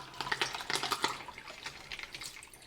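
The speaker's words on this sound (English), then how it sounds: "I'm gonna add a portion of the water first." Water poured into the bowl of a KYS Pro Baker 7+ spiral mixer for pizza dough, a close, irregular splashing flow with no voices.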